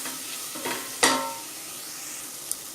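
Masala spice powders sautéing in oil for kuska, a soft continuous sizzle broken by a few stirring scrapes of a spoon against the pan, close up with no voices.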